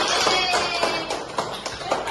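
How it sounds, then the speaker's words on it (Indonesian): Classroom applause for a student after a correct answer at the board, a steady patter of claps from a group of students over about two seconds with faint voices mixed in. "Tepuk tangan untuk Mbak Sabrina"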